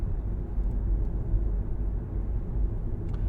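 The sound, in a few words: car engine running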